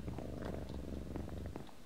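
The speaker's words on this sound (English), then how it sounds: "I hear Minnie purring." A cat purrs steadily and close by in Minecraft with the Mo' Creatures mod, a soft low rumbling vibration that continues throughout.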